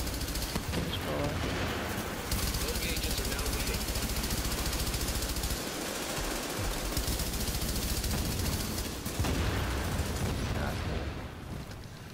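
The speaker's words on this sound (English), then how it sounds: "There's a turret behind us here." A deployed turret fires in Tom Clancy's The Division. Dense, rapid gunfire runs nearly without a break, loud and harsh, with only brief dips in the barrage.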